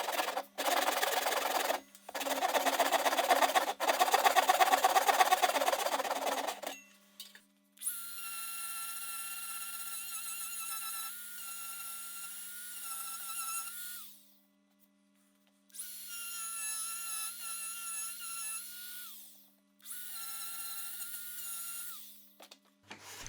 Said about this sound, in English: use a rotary tool to give it a light sanding